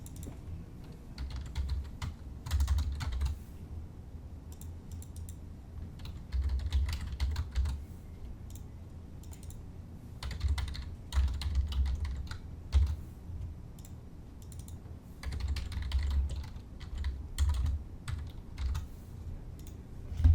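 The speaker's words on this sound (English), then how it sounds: "I'm going to type in date, approval, drawn by, and drawing number" Fingers type on a computer keyboard, filling in title block fields during a drafting lecture. Quiet clicking comes in several bursts separated by short pauses, and no voice is heard.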